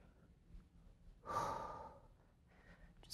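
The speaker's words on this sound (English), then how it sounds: "Deep breath in going down," A single deep breath during a push-up workout, a soft close breathy rush lasting about a second, alone in a quiet room.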